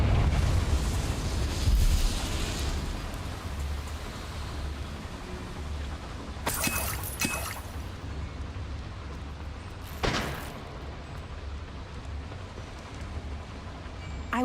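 Confringo fire blast spell in the Hogwarts Legacy game, a broad rumbling burst at the start with crackling debris, followed by two sharp bright cracks a few seconds apart over a low roaring bed.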